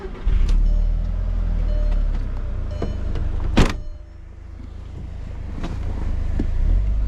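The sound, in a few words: 2002 Audi TT ALMS Edition engine running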